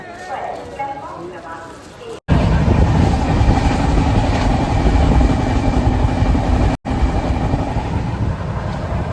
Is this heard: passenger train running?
yes